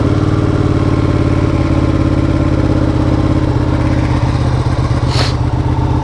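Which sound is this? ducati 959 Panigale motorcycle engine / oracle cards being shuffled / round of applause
ducati 959 Panigale motorcycle engine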